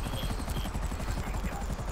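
A helicopter in GTA 5 thumps with a steady, rapid rotor chop over a loud engine roar, close and continuous from start to finish.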